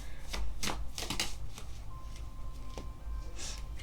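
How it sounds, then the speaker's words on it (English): Rapid riffling flutters of a tarot deck being shuffled, several quick bursts in a row over a low steady background hum. "I'm just splitting the deck. Let's shuffle a little bit more."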